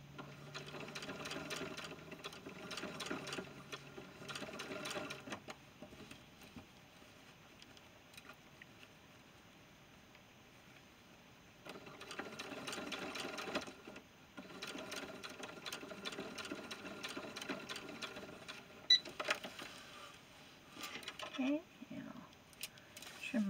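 A sewing machine stay-stitches the shoulder of a 70 cm doll's suit coat in short bursts of close, rapid whirring broken by pauses, with quiet talking and the rustle of fabric between runs.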